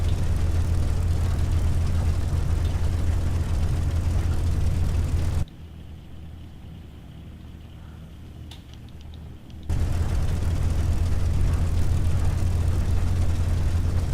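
Spitfire piston engine idling at fast taxi speed in the A2A Accusim flight simulator on a hot evening, a steady low drone that drops to a quieter hum for several seconds before returning at full level.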